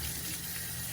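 Cold water streams steadily through a strainer of rinsed hominy, a continuous, close hiss of running tap water with no breaks, heard alone.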